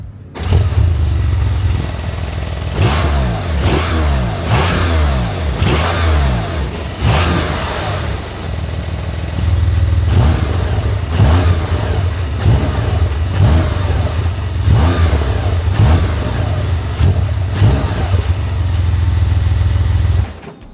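A Porsche 911 Turbo S 992.2 with a hybrid turbocharged engine idles with a deep, steady rumble and is revved repeatedly, producing close, loud surges that rise and fall over the low drone.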